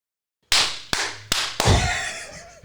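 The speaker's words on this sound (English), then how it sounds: "Oh, wait, we get to clap again." Four sharp claps ring out, spaced evenly apart, each leaving a short reverberant tail in a room.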